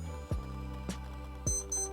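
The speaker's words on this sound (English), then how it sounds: "it will make the beep sound of the alarm sound check" Casio F91W digital wristwatch running its alarm sound check, giving short, high, pulsed beeps in quick succession near the end, over a steady low electrical hum.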